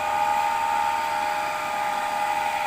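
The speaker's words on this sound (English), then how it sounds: "Now the motor is running in a speed" A DC shunt motor brought up with a three-point starter runs at about 1252 RPM, giving a constant whirring hum with a steady high whine, loud and unchanging throughout.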